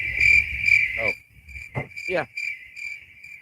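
Crickets chirp in steady, repeated high trills, interrupted by a couple of short bursts of louder voice and a brief spoken word partway through.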